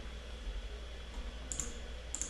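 Faint computer mouse clicks, a couple of quick light taps standing alone over a steady low hum in a quiet room.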